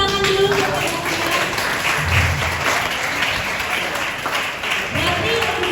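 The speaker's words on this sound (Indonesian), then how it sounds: "Boleh dong semuanya tepuk tangan dulu buat Kak Zakia." Audience applause at a high school event, a steady, dense clapping from a crowd lasting several seconds, with a voice talking over it.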